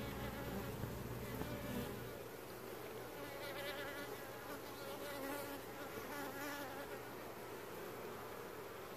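Dense, steady buzzing of many honeybees from an aquarium observation hive, close and continuous, with wingbeat hum filling the whole stretch and no talking.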